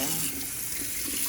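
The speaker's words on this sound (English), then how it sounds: "then we can rinse it off" Running tap water rinses the tube of a Frigidaire countertop ice maker being cleaned of hard-water buildup, a steady close splashing flow at a sink that lasts throughout.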